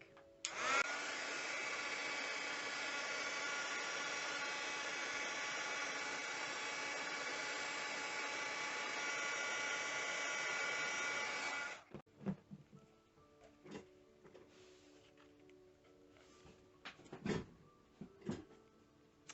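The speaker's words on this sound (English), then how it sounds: "I'm going to take the heat tool to these one more time." A handheld heat tool blows hot air over vintage playing cards with a loud, steady whirring roar for about eleven seconds, then cuts off, followed by quiet clicks and handling sounds.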